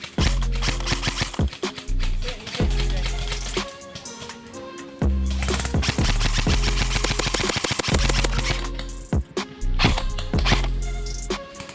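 Airsoft guns firing at an outdoor milsim event, loud rapid bursts of sharp cracks and clacks in quick succession, with short gaps between volleys.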